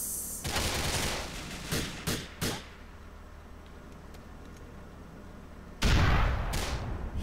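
Grenades blast in Grand Theft Auto 4 gameplay: a cluster of sharp, loud bangs comes in quick succession, then a quiet stretch, then a final heavy, booming explosion with a rumbling tail.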